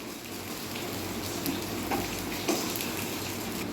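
Freshly grated coconut sautéing in a pan for sweet coconut rice, a steady soft sizzle with faint stirring scrapes and no talk.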